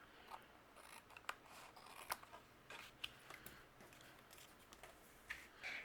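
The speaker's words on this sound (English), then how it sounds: "We're going to trim that off with our scissors." Scissors trim overhanging cardstock, faint close snips and crisp cutting clicks repeating irregularly over a quiet background with no speech.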